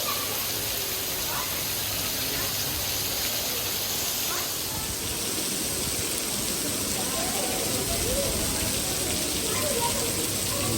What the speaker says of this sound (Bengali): জম্পেশ বৃষ্টি